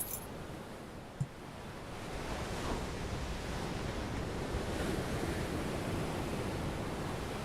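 Steady sea waves wash in a video game ambience, a continuous soft broadband surf with one brief click near the start and no voices.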